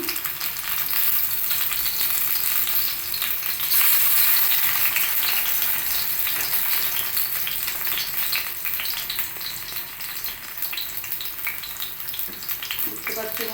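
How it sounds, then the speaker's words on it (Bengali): Fritters of bok flower and biulir dal batter frying in a pan of hot oil, a steady dense sizzle and crackle running throughout with no talk, slightly louder midway. "সব কিছু রেডি করে নিয়ে এখন ভাজছি"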